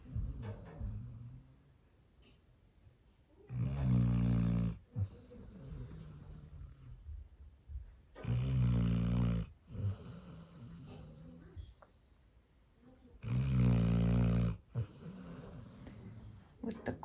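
A person snores beside the listener on a New Year's morning, three long, loud rasping snores at a slow rhythm with quiet breathing gaps between them.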